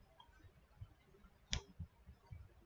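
A single sharp mouse click at report preview in ANSYS Workbench, quiet and close, standing out once against faint background noise with a few soft low thumps around it.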